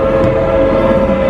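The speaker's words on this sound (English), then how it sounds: "You can hear a train somewhere." A train somewhere in the distance, its steady rumble and drawn-out horn-like tone droning evenly beneath an indoor space at an immersive art installation, with no talking.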